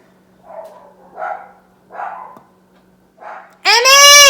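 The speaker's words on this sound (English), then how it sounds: "All the dogs in the neighborhood decide to go crazy at once." Several muffled barks sound in short separate bursts, then a loud, high yelping cry bursts out close at the end.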